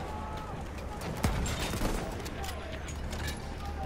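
Arisaka rifle fired in Battlefield 1, a Japanese rifle: two sharp, separate shots about half a second apart ring out over a steady game background.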